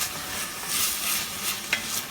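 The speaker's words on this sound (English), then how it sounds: "Now you're gonna put the onion in, and you kind of just want to sweat it off." Onion sweating in extra virgin olive oil in a pan over medium heat, a soft steady sizzle with gentle stirring swells and one sharper scrape near the end.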